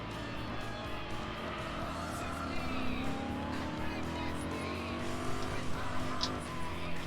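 A Ford GT racing around the Nürburgring in Gran Turismo 4 Spec II. A sustained engine roar climbs and falls through gear changes, with occasional tire squeal, close and steady throughout.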